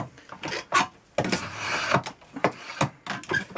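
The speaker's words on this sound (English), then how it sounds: "I'll use this slightly finer Spokeshave now, take a bit more off" A finer spokeshave shaves a wooden chair stretcher, giving a series of short rasping strokes in an uneven rhythm with one longer stroke in the middle, close and clear, with no talking.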